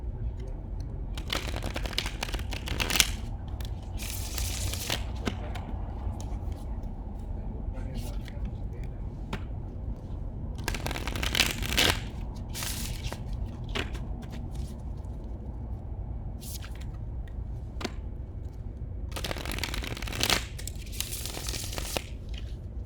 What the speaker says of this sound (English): We'll go ahead and start shuffling